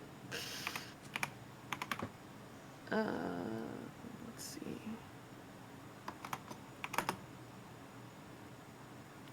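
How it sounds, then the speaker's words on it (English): A loud computer keyboard clatters in short bursts of sharp clicking keystrokes, separated by pauses, with a brief muttered voice in between. "I have a really loud keyboard"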